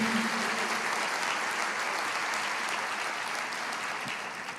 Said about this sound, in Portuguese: comece aplaudindo ao Senhor, agradecendo a Ele